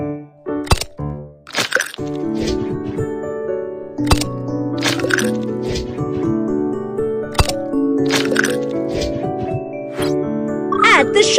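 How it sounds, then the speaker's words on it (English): Three eggs cracked for Japanese taiyaki fish-shaped cake batter, sharp cracking clicks at intervals over cheerful melodic background music, close and distinct. "Crack 3 eggs."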